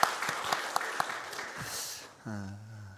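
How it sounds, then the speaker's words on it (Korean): Church congregation clapping in applause during a Sunday morning service, a loud burst of many hands that fades out after about two seconds, followed by a sustained tone from the sanctuary. "우리 영광의 박수를 다시 한번 우리 하나님 앞에"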